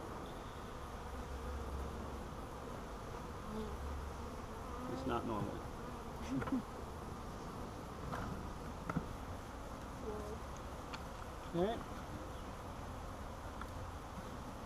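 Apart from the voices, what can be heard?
swarm of bees in the air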